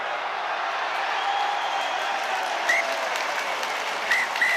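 Rugby players and spectators clap and cheer after an Under-20 Six Nations match between Italy and Scotland in Treviso, a steady wash of applause with a few sharper whistles and shouts.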